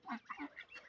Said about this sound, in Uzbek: Ana ikkitasi g'oz.